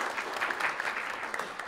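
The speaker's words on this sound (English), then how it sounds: "So you deserve a round of applause as well" An audience in a darkened lecture hall at a symposium applauds, steady moderately loud clapping that lasts the whole short stretch.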